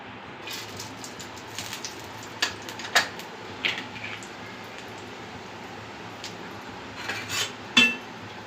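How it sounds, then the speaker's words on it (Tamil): Fennel seeds spluttering in hot oil for a spicy fish curry tempering: faint, scattered crackles with a few sharper pops standing out over a quiet background. "நம்ம சோம்பு போட்டு தாளிச்சிக்கலாம்."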